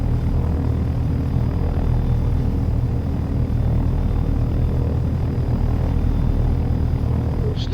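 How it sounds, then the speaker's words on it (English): A helicopter in a flight-simulator game spools up for takeoff, its engine and rotor making a loud, steady droning rumble that holds level throughout. "Slowly raise the collective until the chopper is light on its skids."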